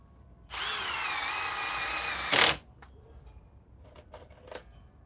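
A cordless power drill whirs loudly for about two seconds driving a fastener into OSB, ending in a brief harsher burst before stopping. Faint handling clicks and knocks follow.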